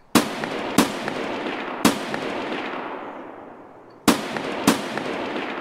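Gunshots in the video game Escape from Tarkov: five sharp, loud reports fired in irregular bursts, two close together, then one alone, then a pause before two more, with a steady ambient bed beneath and no talking.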